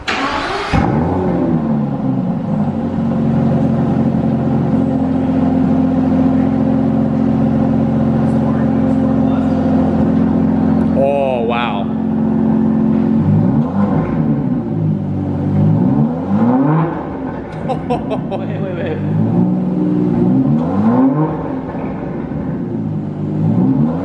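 An Aston Martin DB11 V12 engine idles with a deep rumble, then revs repeatedly in rising and falling bursts, loud and close, with people occasionally talking over it.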